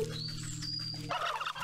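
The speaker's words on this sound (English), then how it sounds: "Turkey! Turkey!" Turkey gobbling from the Wytchwood video game, a fowl call with a high whistling tone followed by a busier burst of gobbles near the end, steady game ambience beneath, no talk.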